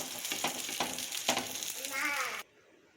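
A stuffed egg and aloo paratha fries in oil in a pan, giving a steady close sizzle with a few scraping clatters, then the sound cuts off abruptly near the end.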